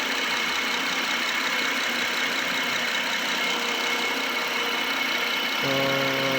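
A 2014 Honda Accord V6 idles steadily after a cold start, a constant mechanical hum and rattle that a faint knocking complaint comes with, close and even, deepening near the end, with no talking.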